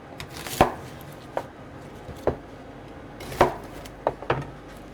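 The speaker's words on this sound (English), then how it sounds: "So first we will slice this onion into 4." Knife chopping through an onion on a cutting board, about eight sharp, separate thunks at an uneven pace, close and fairly loud against quiet background noise.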